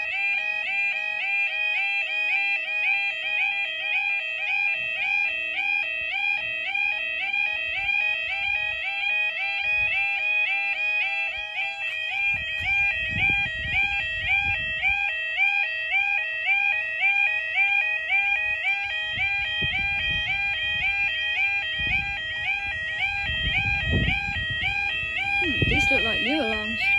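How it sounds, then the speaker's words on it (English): Newly installed level crossing alarms at Brampton station in Suffolk warble continuously in a fast two-tone pattern, steady and fairly close, while people talk intermittently beneath them. "These look like new alarms, to be honest."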